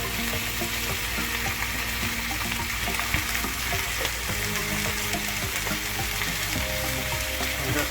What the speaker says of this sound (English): Stir all that together now, get it well coated.